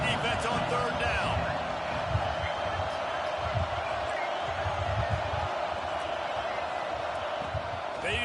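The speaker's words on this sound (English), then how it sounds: "Decibels rising as the crowd gets behind this defense on third down" Dense, steady roar of a big football stadium crowd getting loud for the defense on third down in an Auburn game, a continuous wash of cheering with a commentator talking over it.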